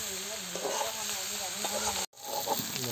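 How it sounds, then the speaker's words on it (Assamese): Pork, potatoes and onions fry together in a pan, giving a steady close sizzle with intermittent stirring scrapes, a brief dropout near the end before the frying resumes. "অলপ টাইম ফ্ৰাই কৰিব লাগিব ভালদৰে"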